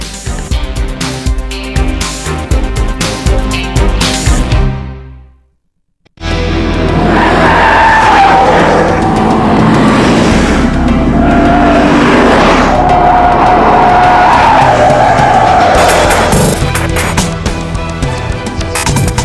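Car tyres screech and squeal in long skids on a Michelin test track, loud and continuous, broken by one short silent gap before the skidding starts again.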